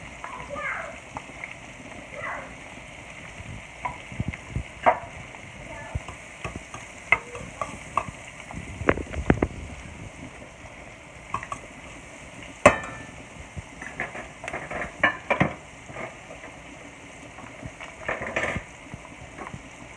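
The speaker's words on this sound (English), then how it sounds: "I'm going to let those sear down." Food sears and sizzles in a pan while seafood potatoes are being cooked at home, with a steady soft frying hiss punctuated by scattered stirring clatters and splattery pops, close and moderately quiet.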